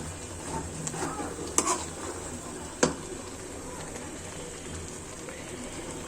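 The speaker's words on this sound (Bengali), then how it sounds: "শাকগুলো এখন আমি নেড়ে দিব" Water spinach greens cooked with lentils are stirred in a pot, soft rustling and sizzling with two sharp clacks of the utensil against the pot, close by and without speech.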